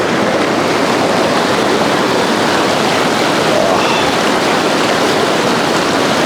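Mountain river near Yamunotri rushing over scattered boulders, a steady, loud, broadband roar of flowing water that runs unbroken and close, with no voices.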